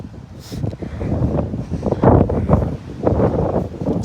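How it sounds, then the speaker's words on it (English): Strong gusts of outdoor wind buffet the microphone, producing loud, continuous rumbling that rises and falls in waves throughout. "I'm sorry it's so windy, y'all."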